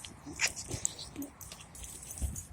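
An excited American bully dog makes short, soft whines, snorts and grumbling noises close by, in brief scattered bursts over quiet background.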